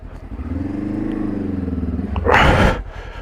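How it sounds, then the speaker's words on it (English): Motorcycle with a Magura hydraulic clutch turning at low speed: a steady, close engine drone with slight pitch wavering as the clutch is slipped, then a short, rough burst of revving before it settles. "here's an example of turning using the clutch"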